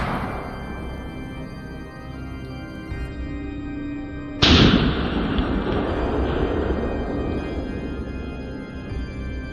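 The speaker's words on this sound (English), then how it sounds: "Finger resting gently on the trigger. Boom! One down, the rest scattered." A single loud rifle shot at wild boars cracks suddenly out of quiet outdoor ambience, followed by a long rolling echo that slowly fades.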